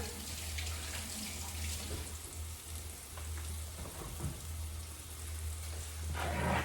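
Hands rinsing under a running kitchen tap, a steady close hiss of water splashing into a sink with a low hum beneath, continuing throughout with small shifts as the hands move.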